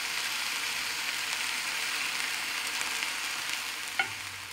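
Sweet ginger chili turkey stir fry with yogurt, hedgerow berries and crystallised ginger sizzles steadily in a pan, a close, continuous hiss with a small clink near the end.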